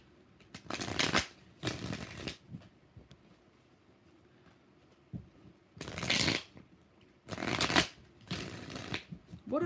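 Tarot cards shuffled by hand in five distinct bursts of riffling, each roughly a second long, separated by quiet gaps and close to the microphone.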